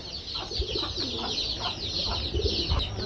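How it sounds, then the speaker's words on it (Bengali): Soft, low cooing of a pair of Lakkha (fantail) pigeons repeats several times against a steady hiss of background noise, moderately close with no talking. "এখানে দেখতে পাচ্ছি একজোড়া কি লাক্ষা কবুতর রয়েছে"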